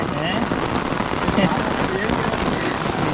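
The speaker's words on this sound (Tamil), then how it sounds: "செம மழைடா டே, சரியான மழை." Heavy rain pours steadily during traditional fishing outdoors, a dense continuous hiss of drops on surfaces, close and loud, with people talking faintly beneath it.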